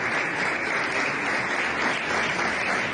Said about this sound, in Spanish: Aplauso cerrado.